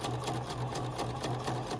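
A sewing machine backstitches through gathered fabric held in place with tape, its rapid rhythmic stitching whir close and steady across the short stretch.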